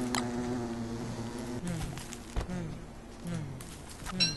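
Bees buzz in the video game Don't Starve, a steady droning hum with shifting pitch that swells and fades, punctuated by brief game clicks and ticks.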